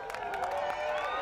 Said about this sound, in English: The crowd is getting excited.